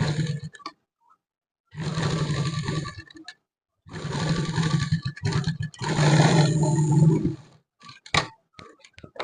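Sewing machine stitching a sleeve cuff, running in several short close bursts of steady whirring separated by pauses and a few clicks.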